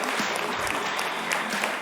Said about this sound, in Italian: un applauso, in bocca al lupo al nuovo presidente